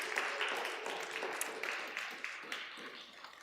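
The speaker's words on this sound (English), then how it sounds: "So let's give them all just a round of applause." A church congregation gives a round of applause during a Sunday service, the scattered clapping fairly faint and distant, lasting a few seconds with a voice faintly underneath.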